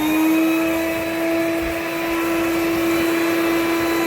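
A homemade cyclone dust collector driven by a vacuum runs steadily with a loud, continuous whine and airflow roar, holding a strong tonal hum throughout with no talking.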